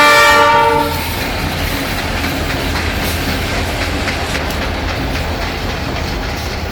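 Train 4246 rolls past during railfanning in Central Kansas, its horn blaring loudly at first, then giving way to a steady, roaring rumble and clatter of railcars passing close by.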